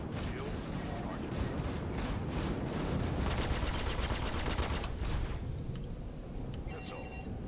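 Rapid gunfire in the Star Citizen space game pelts a spaceship's shields in dense, crackling bursts that swell in the middle and then taper off, with a voice present.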